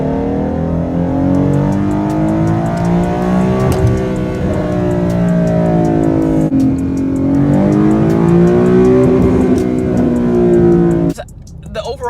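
A Dodge Challenger R/T muscle car engine revs high toward 7,000 rpm, its pitch climbing and falling in long sweeps, loud and close, with a voice talking over it.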